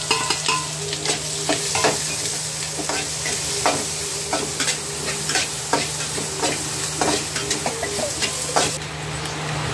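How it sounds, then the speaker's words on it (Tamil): Onion and green chilli with curry leaves sauté in a pan for upma, a loud, steady sizzle with frequent close stirring scrapes in an uneven rhythm. "ஆனியன், பச்சை மிளகாய் அதெல்லாம் போட்டு நல்லா வதக்கி"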